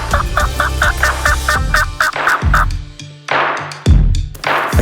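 A wild turkey gobbles close and loud in the woods, a rapid rattling run of notes followed by a few more sharp bursts.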